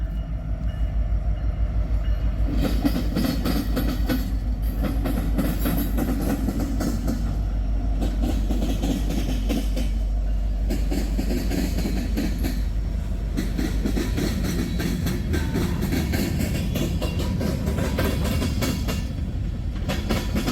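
A westbound Norfolk Southern freight train with tank cars rumbles past close by, loud continuous rolling roar with rhythmic clacking of wheels over rail joints throughout.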